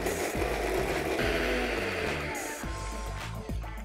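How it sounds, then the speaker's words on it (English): A mixer grinder blends roasted cumin powder and garlic cloves into a paste, whirring loudly and close in short repeated pulses with a harsh grinding rattle, no talking. "Let's run this into a paste."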